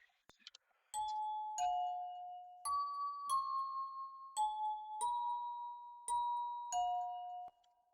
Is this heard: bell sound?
yes